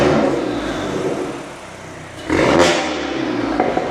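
A Mk8 VW GTI engine with a 3-inch downpipe and deleted particulate filter idles with a throaty exhaust rumble, then revs sharply and settles back, loud and close.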